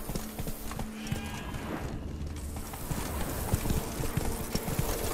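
Roach the horse trotting in The Witcher 3: Blood and Wine, hooves clip-clopping in a steady, quick rhythm close by over a continuous game ambience, with no speech.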